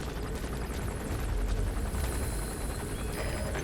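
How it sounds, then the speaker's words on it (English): A helicopter in the Metal Gear Solid V: The Phantom Pain video game gives off a steady, dense rotor and engine roar that holds at an even level throughout, with no voices over it. "The chopper headed your way has turned back."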